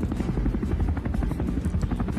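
A formation flyover of 20 helicopters, including A109 and Mi-17 aircraft, at Malaysia's 2024 National Day celebration produces a continuous, loud, throbbing rotor roar with steady blade pulses and no voices.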